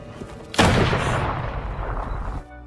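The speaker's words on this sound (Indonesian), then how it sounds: "Tentu saja hal itu membuat mereka sangat terkejut mendengar suara tembakan." A single loud gunshot rings out in a Wolf Pack TV series scene. The sharp blast is followed by a booming, reverberant tail that fades over about two seconds.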